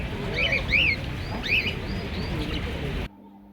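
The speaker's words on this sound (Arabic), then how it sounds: "سمعوا هذا العصافير." Birds chirping at an outdoor spring flower show in Blida's Bab Essebt square: several bright, repeated chirps and tweets over a murmuring crowd background, cutting off abruptly near the end.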